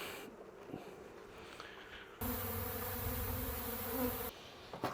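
A dense, steady buzzing of many honeybees around a hive swells in loudly midway, holding for a couple of seconds before dropping back to a quieter hum.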